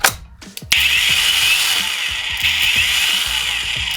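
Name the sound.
cordless angle grinder running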